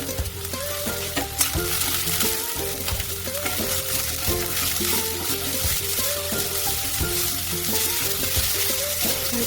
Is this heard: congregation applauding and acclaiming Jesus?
no